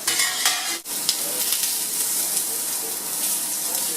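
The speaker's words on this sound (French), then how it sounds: "Comme ça, avec la chaleur de la poêle, elle va finir de cuire" Whiting fish fries in a hot pan after the heat is lowered, giving a steady close sizzle and crackle throughout, with a brief stir or clatter near the start and no talking.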